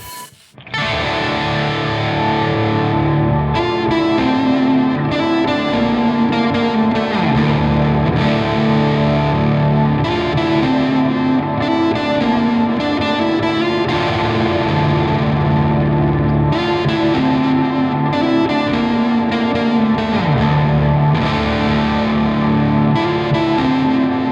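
Electric guitar played through a Neural DSP Archetype Rabea amp plugin, with a frozen reverb chord droning continuously while distorted, effected lead lines noodle loudly over the top throughout.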